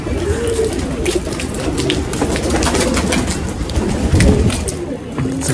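Pigeons coo in a loose chorus nearby, soft rolling calls repeating over a steady background patter and hiss.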